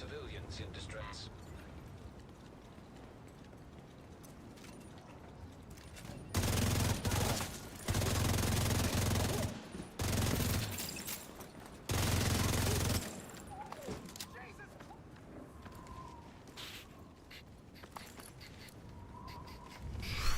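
Rapid automatic gunfire from an AR in The Division 2, heard as several long, loud, dense bursts that start and stop abruptly, with quieter game ambience and a voice in between.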